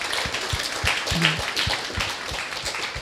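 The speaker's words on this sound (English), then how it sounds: "Let us thank professors. Applause, please." A graduation ceremony audience at KSE in 2014 applauds the professors in a steady, dense wash of clapping that fills the hall evenly for the whole stretch.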